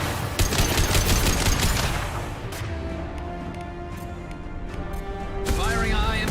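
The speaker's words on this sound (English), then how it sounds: "Firing a high impact shot!" High-impact gunshots in Mass Effect 2 ring out as a dense, rapid burst of loud shots for about two seconds, ease into a quieter stretch of tonal game sounds, then return with another burst of fire at the end.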